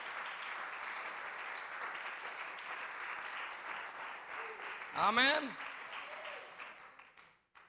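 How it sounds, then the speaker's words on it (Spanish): A church congregation applauds in praise during a sermon, a steady broad wash of clapping that runs through most of the clip, with a voice speaking over it and a brief sung or exclaimed phrase near the end as it fades. "Un aplauso al Señor."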